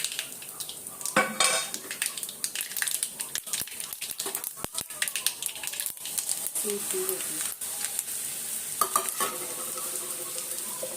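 Sesame seeds are tipped into hot oil for tempering leftover rotli, giving a sudden crackling sizzle, followed by clinks of a spoon against a pan under a steady frying hiss.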